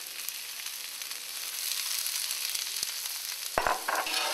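Onion hits hot oil on a grill and sizzles in a steady hiss, close and continuous, with a few sharp clicks near the end.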